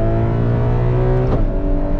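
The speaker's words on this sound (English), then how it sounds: "Anyways, so yes, a naturally aspirated V12." A Ferrari 12Cilindri's naturally aspirated V12 revving under load, a loud, smooth harmonic engine note that holds and then shifts pitch near the end as a gear changes, with no talk.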